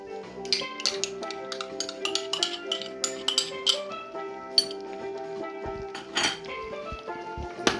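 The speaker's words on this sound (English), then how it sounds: "Stir this in properly, just like that." Ketchup being stirred into a Caribbean-style bone-in beef shank stew in a pot, with a spoon clinking and tapping against the pot in irregular bursts over a soft tonal background.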